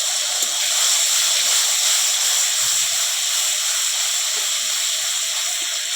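Ground black and white mustard with green chili paste hits hot oil for a fish jhal curry, giving a continuous, even sizzling hiss at moderate level with no talk over it.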